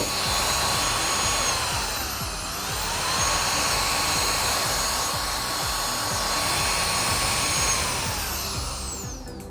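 A KiCA Jet Fan Max handheld blower runs outdoors on its high setting with a loud, continuous high-pitched whine and rushing air, its pitch wavering slightly as it is moved, with no voices.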